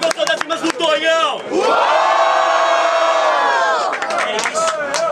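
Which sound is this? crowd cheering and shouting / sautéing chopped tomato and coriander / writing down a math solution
crowd cheering and shouting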